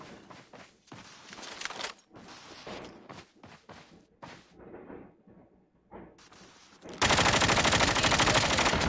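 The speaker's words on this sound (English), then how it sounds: "Taking some shots on Topher" Gunfire in a Call of Duty Mobile duo battle royale match: scattered single shots and short bursts amid movement and thuds, then a loud, sustained burst of automatic fire near the end.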